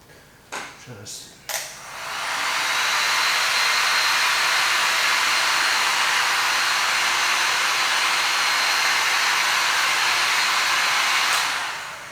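A heat gun warms window tint film on a car side marker, its steady loud blowing roar starting after a few brief handling knocks and running continuously for about ten seconds before cutting off near the end.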